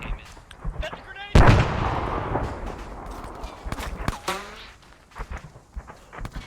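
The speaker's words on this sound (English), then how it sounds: "That's a grenade!" Grenade blast in ARMA 3: a single sharp, loud explosion with a booming tail, followed by scattered distant shots and radio chatter of people talking.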